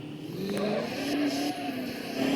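A Ford Endeavour car in an Indian vehicle simulator game pulls away from a start, its engine giving a steady, loud drone that holds and builds slightly over a couple of seconds.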